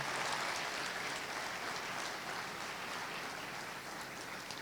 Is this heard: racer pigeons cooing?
no